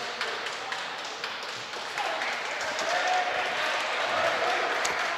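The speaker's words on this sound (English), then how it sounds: "Frisch gets claps on the court for some of their leaders coming off" A crowd at a high school boys' varsity basketball game in the Yeshiva League claps in a steady, dense wash of applause that swells a little toward the end, with light taps and voices mixed in.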